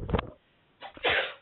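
A person sneezes once, close up: a short inhale, then a loud, breathy burst that fades out.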